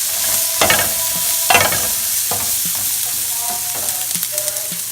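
Food stirred and sizzling in a pan on medium heat during meal prep, a steady fry hiss broken by repeated loud scraping stirs close by, with no talking.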